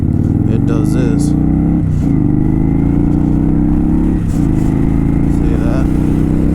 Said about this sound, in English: as you're accelerating, the RPMs will fucking climb the fuck up